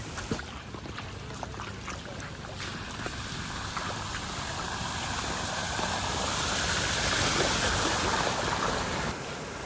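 Floodwater from the 2024 Kerala flood pours across a road in a broad, constant rush that swells slightly louder toward the end, with no speech over it.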